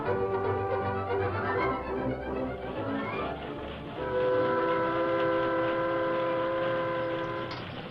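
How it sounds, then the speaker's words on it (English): A steam train in a radio drama puffs along the tracks with rhythmic chugging, then its whistle sounds in long sustained tones over the rolling rumble of the three-car train. "the train puffed along through a valley a few miles from the town of Oakton"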